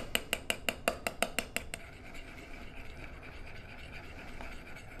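A spoon stirs a sesame oil mixture in a bowl for a mooncake glaze, making about ten quick, evenly spaced clinks against the bowl before fading into faint, quiet background.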